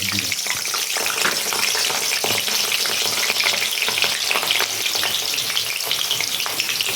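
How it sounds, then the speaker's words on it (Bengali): Potatoes frying in hot oil in a pan, a loud, steady sizzle with crackling pops and occasional stirring scrapes, close and continuous with no voices. "আমি আলুগুলো এখন ভেজে নেব"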